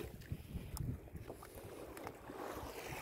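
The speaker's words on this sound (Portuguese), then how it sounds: "O porto tá calmo hoje, o vento tá calmo, tá aí as embarcações no porto." Boats in a calm harbor on a lobster-fishing outing, with a steady low wash of water and light wind noise and a few faint knocks, fairly quiet and without talk.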